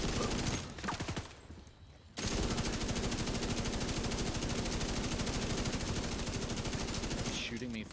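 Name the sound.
gunfire in the video game The Division 2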